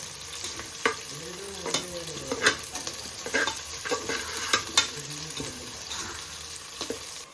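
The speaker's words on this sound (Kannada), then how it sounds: "ಈರುಳ್ಳಿ ಹಾಕ್ಬಿಟ್ಟು ಅದು ಬ್ರೌನ್ ಆಗೋವರೆಗೂ ಸ್ವಲ್ಪ ಬಿಡಬೇಕು." Onions fry in a pan until brown, a steady close sizzle broken by repeated scraping strokes of stirring.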